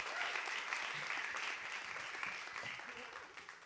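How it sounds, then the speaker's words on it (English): Steady applause from an audience at an art-school graduation award ceremony, a dense, continuous patter of clapping heard at a moderate distance that slowly eases off, with faint talk underneath. "I would love to ask you to give him one more applause"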